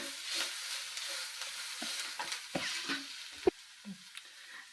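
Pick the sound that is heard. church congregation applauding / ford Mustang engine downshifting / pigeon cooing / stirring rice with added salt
stirring rice with added salt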